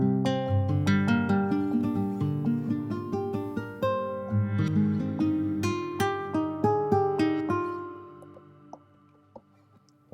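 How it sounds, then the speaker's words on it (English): Reversed classical guitar notes swell in one after another, each plucked tone fading up and cutting off abruptly, forming a slow, layered melody that thins out toward the end. "which is the reversed classical guitar"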